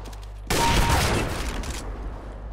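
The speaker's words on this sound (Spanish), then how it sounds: "La primera vez que mato con el revólver, así de dos tiros." A loud, sudden burst of gunfire erupts and then fades over about a second in the video game CS:GO, where a revolver is in use.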